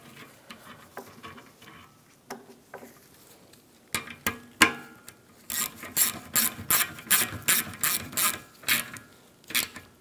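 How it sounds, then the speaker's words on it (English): A ratchet snugs down a stud on a GMC Yukon XL A/C condenser; sparse clicks at first, then a fast run of sharp, close pawl clicks in regular bursts. "And snug that down."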